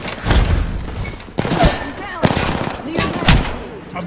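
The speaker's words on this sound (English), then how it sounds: "I'm getting shot." Rapid bursts of R99 submachine gun fire in Apex Legends, several short volleys in quick succession at close range, with squadmates talking over the shooting.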